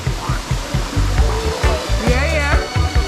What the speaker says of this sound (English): Breakfast by the waterfall.